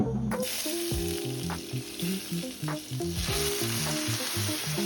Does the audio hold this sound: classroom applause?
no